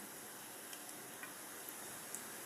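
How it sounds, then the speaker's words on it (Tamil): Mutton kola urundai balls deep-fry in hot oil, making a quiet, even bubbling sizzle with occasional light ticks and pops, faint and continuous with no voices over it. "இங்கே பாருங்கள், நல்லா டீப் ஃப்ரை ஆகும்."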